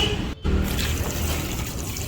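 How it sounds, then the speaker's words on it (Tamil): Water pours and splashes over mutton bones as they are washed for a spicy bone and potato gravy, a continuous close trickling and sloshing with one brief break in the flow. "எலும்பு நல்லா சுத்தமாக தண்ணி ஊற்றி சூப்பராக கழுவிக்கோங்க"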